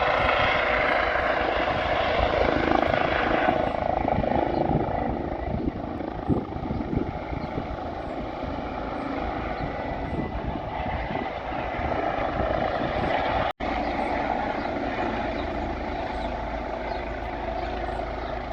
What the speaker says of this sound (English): Also helicopter is flying overhead, looking at the power lines quite close.